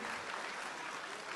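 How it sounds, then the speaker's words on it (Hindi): A brief, distant wash of clapping hands greets the Madhya Pradesh team after a Guru Purnima dance-drama performance. The applause is soft and steady throughout. "जोरदार तालियां मध्य प्रदेश के टीम के लिए।"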